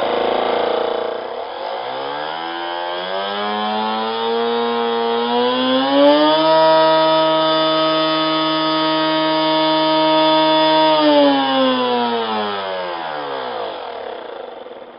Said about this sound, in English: So that has plenty of thrust now, but makes a hell of a lot of noise.